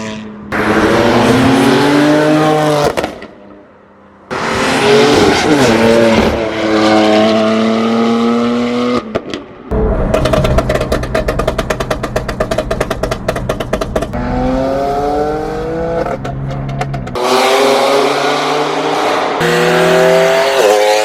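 A 1000 hp BMW M4 F83 CS convertible with a loud exhaust makes several fast flybys outside, the engine note rising and falling as it approaches and passes, with harsh rasping bursts and brief quieter gaps.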